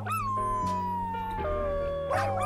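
A cartoon dog howls in the video game Wobbledogs, a long wavering tonal wail that slides and dips over several seconds against a layered musical backdrop, clear and steady with no speech.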